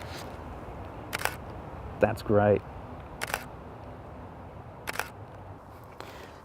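A single-lens reflex camera shutter clicks four or five times at spaced intervals during an indoor portrait shoot, with a brief spoken remark in between.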